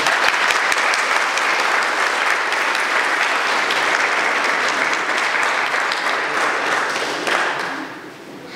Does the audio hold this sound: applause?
yes